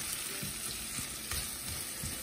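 Food fries in a pan with seasoning added, giving a steady close sizzle with soft crackles and faint stirring scrapes. No one talks over it.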